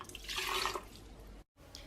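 Half a cup of water splashes into a cup in a kitchen while a vegan detox recipe is prepared: a short, close pouring burst, then a brief trickle, a sharp cutoff and a faint final drip.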